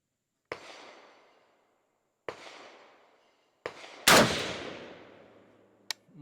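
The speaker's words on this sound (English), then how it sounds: "So let's go ahead and now do a 5-shot group." A 6.5 Creedmoor rifle firing a five-shot group: sharp, loud, close reports with decaying echoes, spaced one to two seconds apart. The fourth shot is the strongest and is followed by a brief click.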